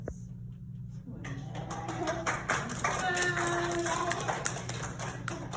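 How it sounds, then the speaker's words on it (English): A small puppet-show audience claps in a scattered, uneven way that starts after a quiet second and grows moderately, with individual hand claps audible and voices mixed in. "give another round of applause for Johnny and Coach and Bobby and Jack"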